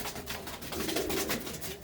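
Pigeons cooing at close range in a loft, soft throaty coos rolling together in a brief, continuous murmur.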